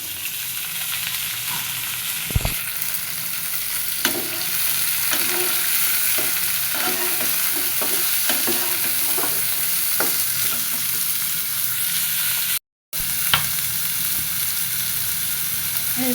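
Vegetable stalks and potato frying with browned onion in a pan, a steady loud sizzle broken by repeated scraping stirs, with one brief dropout near the end.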